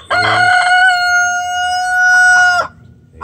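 A rooster crows nearby, a single loud, sustained cock-a-doodle-doo that holds steady for over two seconds before cutting off sharply.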